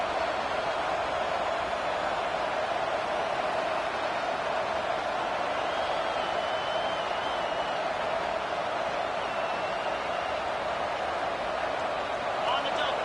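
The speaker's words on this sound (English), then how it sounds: "Third down, and this crowd is tearing the lid off this place." A football stadium crowd roars steadily on a third down, a dense, loud, unbroken wash of noise filling the whole stretch with faint whistles and shouts rising through it.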